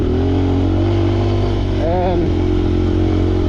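A motorcycle being ridden, its engine droning loud and steady right up close, with heavy wind rumble. Someone talks briefly over the noise.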